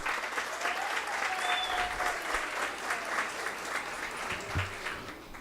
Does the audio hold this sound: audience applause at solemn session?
yes